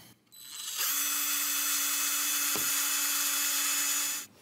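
Power drill bit boring holes into the wooden body of a cheap child's Telecaster-style guitar, one steady high whine of about three and a half seconds with a brief dip midway, close and loud with no talk.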